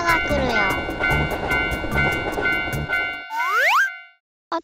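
Cartoon train approaching in a children's animated railway-crossing scene, a loud rumbling, rhythmic chugging with sustained tonal ringing, ending in a sliding springy sound before a brief silence.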